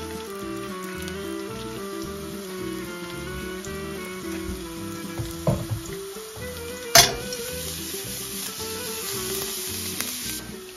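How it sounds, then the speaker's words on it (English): Food frying in extra virgin olive oil for an Italian garlic dish, a continuous close crackling sizzle with scattered pops and a sharp spatter burst midway, no speech over it. "I'm just frying it off to get some of the juices out"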